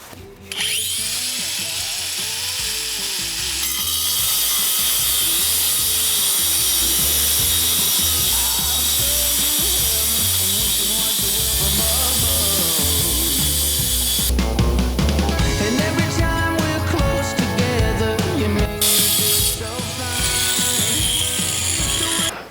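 A cordless Bosch angle grinder with a 125 mm disc whines loudly and continuously while cutting through paving stone, its harsh grinding noise rising and shifting as the disc bites deeper.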